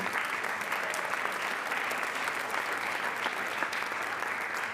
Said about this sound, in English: We're not going to hold our applause for these 2